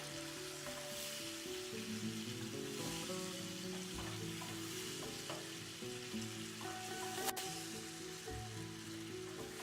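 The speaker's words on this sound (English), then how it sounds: "I'm gonna stir it well" A chopped tomato sizzles steadily in a hot pan for Burmese egg curry, a soft crackle with occasional scraping and stirring knocks from a utensil, quiet and close.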